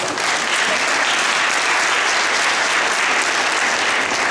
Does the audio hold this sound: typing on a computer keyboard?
no